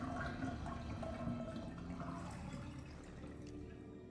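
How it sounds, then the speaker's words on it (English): Dirty water drains out of a bathtub in Resident Evil: Revelations, a continuous gurgling, rushing flow that stays steady and close for several seconds with no voices. "Drain the tub? Yes."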